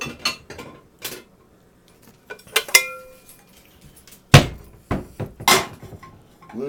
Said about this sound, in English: I'm going to need to grab a smaller pot